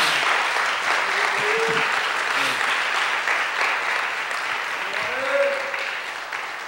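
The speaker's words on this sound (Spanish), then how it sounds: "Dale un aplauso a Dios." A church congregation breaks into sustained applause, steady clapping filling the room while a few voices call out over it.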